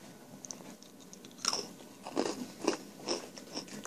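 Biting and chewing a hard, foam-like moon sandwich: a few close crunchy bites followed by moist, irregular chewing, soft and intimate with no talking.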